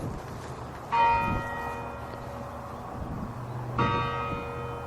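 Two loud church bell strikes, a few seconds apart, each ringing out and slowly decaying, with nothing else over them.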